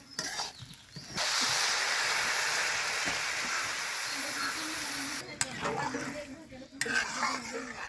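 Water poured into rice being roasted in a pan for egg pulao, giving a broad, steady rush and hiss after a brief start, with clinks of a utensil toward the end.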